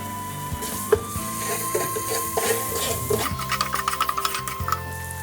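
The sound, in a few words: garlic and ginger added to a pan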